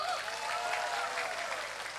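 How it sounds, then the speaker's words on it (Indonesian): An audience applauds steadily at an outdoor Islamic religious gathering with a Banjari shalawat group, a dense, even patter of clapping that holds at moderate volume throughout. "Tepuk tangan riyen Bu."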